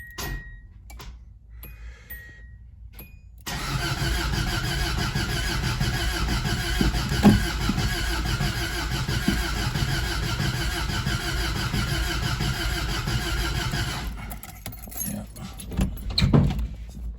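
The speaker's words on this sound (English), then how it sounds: "think it's got a bad starter, and the motor almost sounds like it's blown" An engine with a bad starter cranks steadily and loudly for about ten seconds without catching, a grinding, labored churn, with clicks and rattles before and after.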